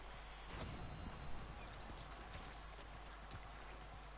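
Horse hooves clip-clop steadily in Red Dead Online, a soft rhythmic plodding under a constant wash of rain and low ambient noise.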